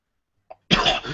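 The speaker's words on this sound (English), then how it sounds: "You hear him cough." A voice acts out a single harsh cough from a badly wounded character in a Dungeons & Dragons tabletop session: a faint catch in the throat, then one loud, close, rasping cough.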